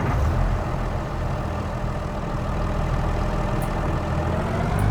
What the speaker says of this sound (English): What a lovely tractor this is.